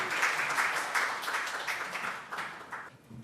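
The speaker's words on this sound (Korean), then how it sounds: "박수로 맞아주세요." An audience applauds to welcome the chair of a panel discussion at a health forum, a moderate burst of many hands clapping that gradually thins and fades away.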